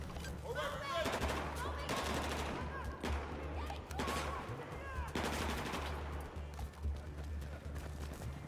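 Pistol fire in the Battlefield 4 single-player campaign, with sharp shots repeating every second or so under background battle noise and some faint voices, moderately close.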